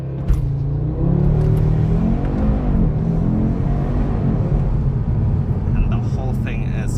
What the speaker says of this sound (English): the launch control in this thing is just literally insane